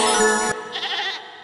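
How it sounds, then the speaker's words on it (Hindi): A cartoon goat bleats in two long, wavering calls, the first loud and strained and the second softer and higher, heard close and alone. "अरे, यह तो बकरी के चिल्लाने की आवाज है,"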